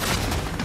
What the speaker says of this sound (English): This is a hand cannon.